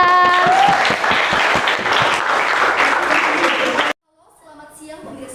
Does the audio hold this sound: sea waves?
no